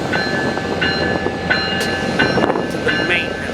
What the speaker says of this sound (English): Metrolink 121 is now gonna deadhead